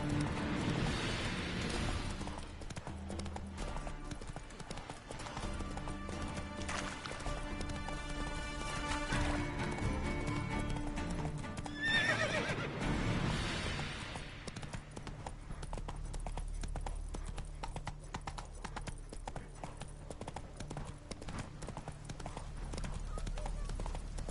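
Roach the horse galloping in The Witcher 3 sounds as rapid hoofbeats thudding beneath game music and ambience, steady and close, with a brief louder swell midway.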